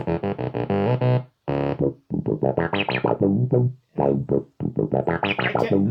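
Korg Volca Nubass synthesizer playing a distorted, fat bass line in short repeated note bursts with brief gaps, loud and close, no talk over it.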